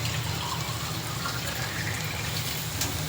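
Water poured from a leftover sauce can into a cooking pan, a brief continuous splashing gush heard close up.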